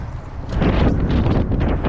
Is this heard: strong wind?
yes